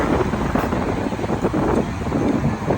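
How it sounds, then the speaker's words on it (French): Strong gusting wind before a storm in Manhattan roars and buffets close against the microphone, a loud, continuous, rough rush with no talk. "Il y a un vent de malade."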